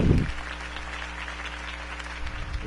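A crowd applauds at the close of a campaign speech for Harvey Dent: a broad, steady wash of clapping heard at a moderate distance over a low humming background, after a brief close thump at the start.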